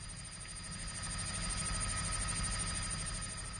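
A helicopter drones continuously, the deep rotor thrum and engine whine holding steady and fairly close throughout, with no voices.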